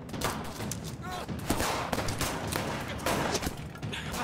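Police shootout in As Dusk Falls: rapid, overlapping bursts of gunfire crack loudly and continuously, with several sharper shots standing out.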